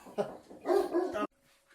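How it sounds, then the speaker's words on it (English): A dog barks in two loud, close bursts, a short one then a longer sustained one, before cutting to near silence in an indoor setting. "the dog barking"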